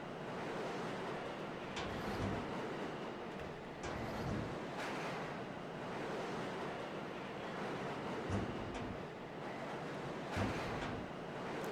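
A train riding along in the video game Lost In Vivo, a continuous broad rumbling roar with occasional faint clanks and bumps, steady throughout.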